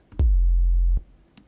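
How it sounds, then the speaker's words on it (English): A single deep, booming 808 kick drum hit with tape saturation sustains for nearly a second with a gritty, saturated edge, then cuts off abruptly. "for this example, I'm just going to use the tape saturation, and that sounds like this."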